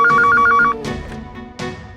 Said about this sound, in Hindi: फोन लगाओ पुलिस स्टेशन।